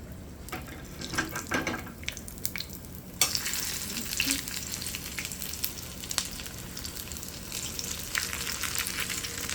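Saltfish fritters fry in a small pot of oil with a steady, fairly quiet sizzle and crackle, with occasional light pops and clinks throughout.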